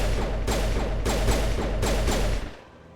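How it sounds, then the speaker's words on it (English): Rapid gunfire from a weapon in the video game Mass Effect, loud and close, with several bursts in quick succession before cutting off into quieter background. "I can apparently draw my weapon and fire it."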